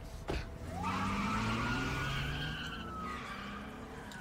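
In the video game A Way Out, a car tears away with skidding, squealing tyres, a rising engine whine and long tyre screech close by and fairly quiet, with no talking.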